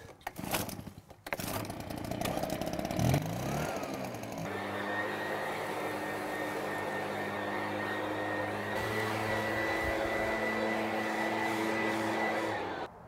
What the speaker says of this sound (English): We'll come in with the blower now, see if we can clean up that existing rock.